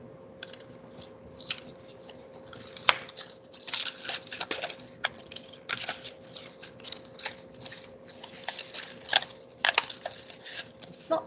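Scissors snip slits halfway down paper rectangles for a pop-up paper model, a run of crisp irregular cuts and rustles close by, with a steady hum beneath.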